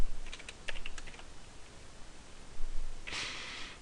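Brief burst of typing on a computer keyboard at a command shell, a few quick clustered keystrokes near the start, then a pause and a louder short clatter near the end.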